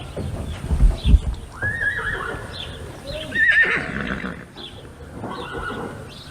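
Horses being led uphill neigh in several loud, shrill whinnies, with hooves clip-clopping and thudding near the start under a rough outdoor background.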